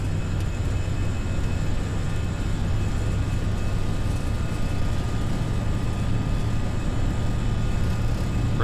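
A320 jet engines at takeoff thrust in the Prepar3D flight simulator, a steady, loud, unbroken roar with a constant low hum and a faint whine holding throughout.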